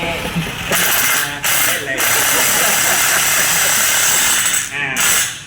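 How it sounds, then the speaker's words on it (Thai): A power drill whirs in several bursts, driving screws while building a room partition wall, starting and stopping, loud and close, with people talking over it. "สว่านยิง"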